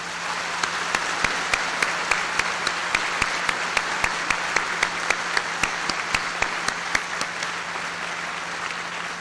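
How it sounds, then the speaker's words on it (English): Sustained applause from a large audience honoring honor students at a 2002 high school commencement, steady dense clapping with sharper individual claps standing out throughout, no talking. "Please join me in recognizing them with a round of applause."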